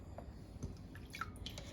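Water drips off a pound of chilled green beans lifted out of an ice-water bath, leaving garlic and peppercorns in the bowl. Faint scattered drips and small splashes patter close by, with no talking.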